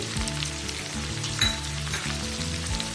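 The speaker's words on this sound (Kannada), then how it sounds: "ಇದನ್ನೆಲ್ಲ ಸೇರಿಸಿ 2 ನಿಮಿಷ ಫ್ರೈ ಮಾಡಿ." Knol-khol, brinjal and carrot fry in a pan with loud, steady sizzling and crackling, plus a few stirring scrapes, no talking.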